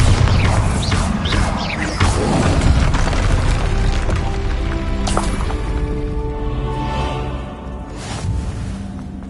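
Bombarda blasting spell in Hogwarts Legacy, a deep booming explosion followed by crashing debris and a long rumbling tail, loud and sustained with a later impact, no talk.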